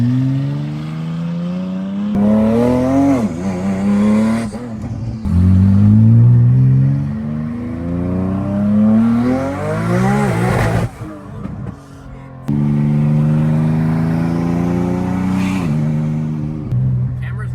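A 2000HP Nissan GTR street car revs loud and close, its engine climbing repeatedly in sweeping pitch rises with short drops between bursts.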